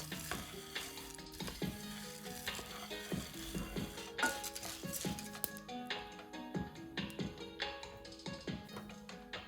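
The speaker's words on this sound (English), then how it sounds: "Add the shelled sunflower seeds to a dry pan and toast them over medium heat, stirring constantly." Shelled sunflower seeds toast in a dry pan over medium heat, with a steady sizzle under continuous stirring and frequent sharp taps and scrapes of the utensil against the pan, fairly close and moderately loud.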